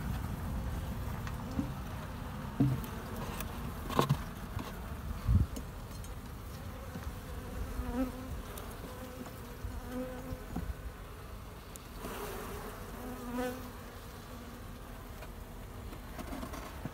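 A dense, continuous buzz of many honeybees at their hives in December humming close by, with occasional louder passes as individual bees fly near.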